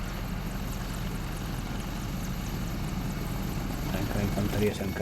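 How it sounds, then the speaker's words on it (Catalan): A helicopter in the tank simulator game Steel Beasts Pro PE thrums as a steady low rotor drone under faint background sounds, swelling slightly toward the end. "Sent l'helicòpter."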